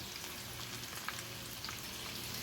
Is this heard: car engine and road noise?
no